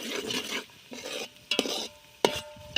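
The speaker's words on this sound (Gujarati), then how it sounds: "પછી થોડી વાર આપણે હલાવી લઈશું." Garlic frying in a pan for Gujarati eggplant bharta, with soft sizzling under a few sharp scrapes and clinks of a spoon stirring against the metal, close and fairly quiet.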